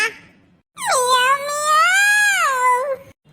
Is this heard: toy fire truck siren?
no